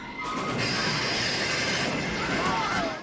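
A train in a movie scene set in the Old West, a steady rolling rumble with squealing wheels and high metallic whines, heard loud and continuous under faint background sound.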